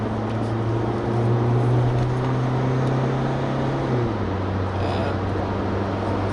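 The 2.2 diesel engine of a 2017 SsangYong Korando Sports accelerates, a steady low drone heard from inside the cabin. Its pitch climbs, then drops as it shifts, over constant road and wind noise.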